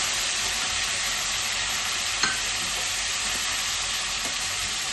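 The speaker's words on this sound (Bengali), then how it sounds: "তো তেলটা গরম হয়ে গেছে, তো আমি চিংড়ি মাছগুলো একটু ভেজে নেবো" Prawns rubbed with salt and turmeric frying lightly in hot oil for a Bengali prawn and cauliflower curry, a steady dense sizzle with faint stirring clicks and one brief tap, no talking.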